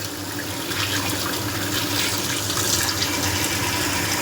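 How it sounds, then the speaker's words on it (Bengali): Water running steadily from a tap, loud and close, while kajuri fish that was cut at the market is rinsed clean in a kitchen before cooking, with no talk over it. "কাজুরি মাছ বাজার থেকে কেটে নিয়ে এসছে, এবার আমি ভালো করে ধুয়ে নিচ্ছি।"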